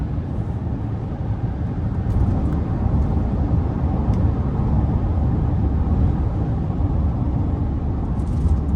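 Steady, loud low rumble of a 2025 Chevy Silverado 2500HD High Country's turbocharged V8 diesel accelerating, heard from inside the cab with continuous engine drone and road noise, no voices.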